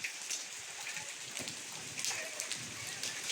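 Hailstones falling outdoors in Kapilvastu, Nepal, a faint, dense patter of scattered sharp ticks and taps striking surfaces, with no one speaking.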